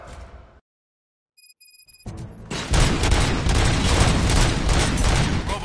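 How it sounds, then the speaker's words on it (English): Gunfire in the video game Robocop: Rogue City comes as a sudden loud, dense burst after a brief quiet gap and a short electronic tone, continuing as sustained rattling blasts. "Gunshots? What's going on?"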